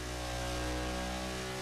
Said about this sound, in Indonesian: Ini mobil gak mau maju-maju nih